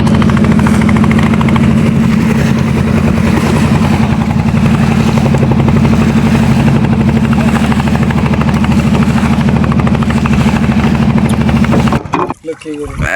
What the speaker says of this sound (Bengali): এই যে ট্রলার যাইতেছে জাল ছাড়ার জন্য, তাই অনেক জোরে চালিয়ে এই জাল ছাড়া হয়েছে